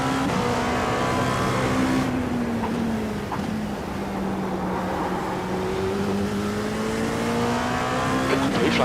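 Faster-class race car in iRacing's Sebring 12 Hour endurance race, engine note holding loud and steady with slow pitch swells as it closes in, near and continuous with faint tire noise.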